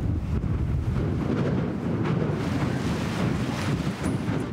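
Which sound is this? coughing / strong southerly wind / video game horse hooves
strong southerly wind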